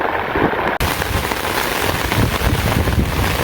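Torrential rain lashes a village in a thunderstorm, a loud, constant roar of drops hitting surfaces. A sharp break comes early, then the downpour carries on unbroken and close.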